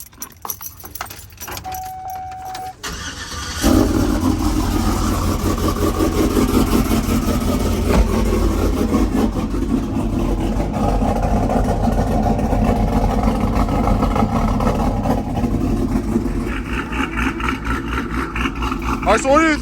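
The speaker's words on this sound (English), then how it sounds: "I'm about to start off my truck, and my coworkers over here are pretty eager to hear it" Keys jangle before a cammed Chevy Silverado/Sierra truck engine cranks and catches, settling into a loud, choppy, lumpy idle that continues steadily for the rest of the clip.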